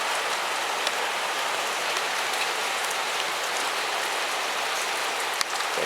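Steady rain falls on a shooting range, a dense, even hiss of drops with occasional sharper close taps, loud and unbroken throughout.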